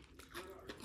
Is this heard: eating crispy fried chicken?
yes